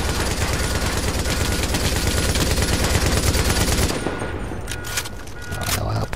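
Rapid automatic gunfire from the video game Tom Clancy's The Division on PS4 rattles loudly and continuously, then breaks into scattered shots and bursts near the end.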